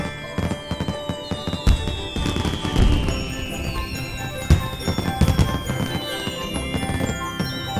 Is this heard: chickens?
no